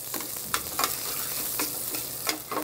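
Bacon frying in a pan for pasta carbonara, a steady bright sizzle broken by several short scraping stirs spaced through the clip, close and fairly quiet, with no talking.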